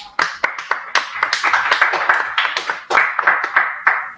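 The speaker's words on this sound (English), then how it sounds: "A big round of applause." Applause from a conference audience at the end of a session talk, distinct claps from a modest crowd in an uneven, sharp rhythm, fairly close and loud, with no voices.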